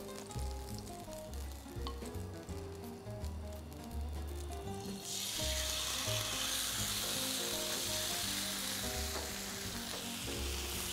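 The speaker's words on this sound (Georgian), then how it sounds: "შევბრაწო უკვე როზმარინთან ერთად. ესე. ეხლა მჭირდება გრილის ტაფა, დავადგავ დიდ ცეცხლზე." Steak searing on a grill pan over high heat with rosemary: a loud, dense sizzle surges in partway through and holds. Before it, and then underneath it, background music plays.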